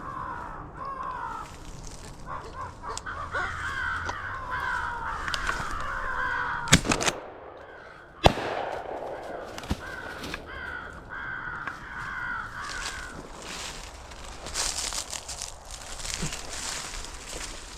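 Crows cawing overhead during a spring coastal crow hunt, repeated harsh calls from several birds near and far, with two sharp gunshot-like bangs midway and outdoor rustling.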